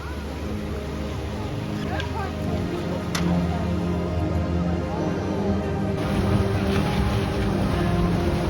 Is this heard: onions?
no